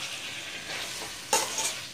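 Mango pickle with fenugreek powder stirred and sizzling in oil in a pan, a soft continuous hiss that jumps to a brighter, louder sizzle with a couple of quick scraping bursts late on.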